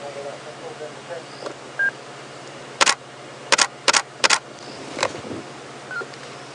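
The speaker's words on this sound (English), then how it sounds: "if you hear that click, click, click, I'm just getting a few snaps of her in the tree with that kill" Camera shutter clicks from photographing a leopard feeding on a kill in a tree on a safari drive at Djuma Game Reserve: a single click, then a quick burst of three to four sharp clicks and one more, over quiet bush ambience.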